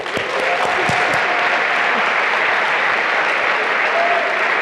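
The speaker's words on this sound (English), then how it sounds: "Let's give her one more round of applause." Audience at a college business lecture giving a loud, sustained round of applause, dense and even from start to finish with a few sharper claps early on.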